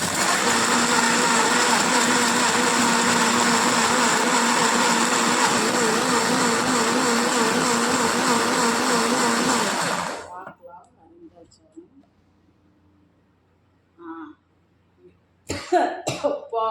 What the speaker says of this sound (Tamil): இப்போ நம்ம வந்து மிக்சியில் அரைக்க போகிறோம்